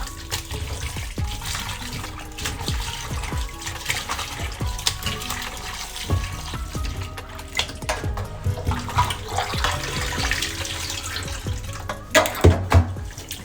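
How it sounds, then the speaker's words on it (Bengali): Food is washed under running tap water to rinse off starch, a steady close splashing flow with shifting gurgles and no talking. "এখন এটা অনেকবার করে ধোবো, ধুয়ে তারপরে সারা রাতের জন্য জলে ভিজিয়ে রাখবো"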